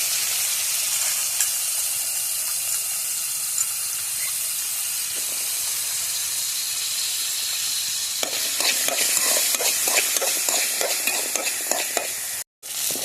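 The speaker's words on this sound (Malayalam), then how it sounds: "നമുക്ക് ആദ്യം കൊച്ചുള്ളി വഴറ്റിയെടുക്കാം കേട്ടോ." Shallots sautéing in a pan give a steady, close frying sizzle with soft hiss throughout, joined later by faint scraping stir strokes near the end.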